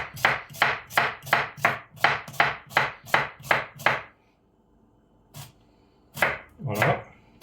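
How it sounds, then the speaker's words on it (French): A knife chopping a red onion on a board: a rapid run of about fourteen sharp, evenly spaced chops, then a pause and a few more scattered cuts, close and clear with no talk. "Donc, je vais le ciseler, l'oignon rouge."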